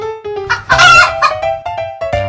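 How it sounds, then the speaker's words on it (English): A chicken clucks in short bursts and a rooster crows loudly and clearly nearby, the calls alone with no talking over them. "Chicken."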